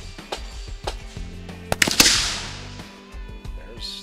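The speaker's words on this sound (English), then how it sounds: "Gunfire you hear coming from another range." Rifle gunfire drifts over from a neighbouring shooting range at a sniper competition, a string of sharp cracks at irregular intervals with one louder, echoing blast in the middle, heard outdoors at some distance.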